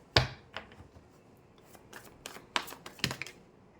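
Tarot cards being shuffled and a card drawn, close crisp flicks and slaps of card stock in scattered bursts with quiet gaps between, one sharper snap near the start.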